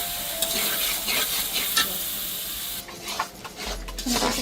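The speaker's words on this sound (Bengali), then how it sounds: "ভালো করে কষিয়ে নিচ্ছি" Ground spice paste with turmeric for chicken bhuna fries and is stirred in a pan, giving a continuous close hissing sizzle with repeated scraping strokes and a few knocks.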